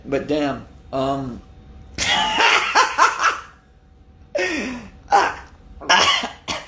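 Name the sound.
throat clearing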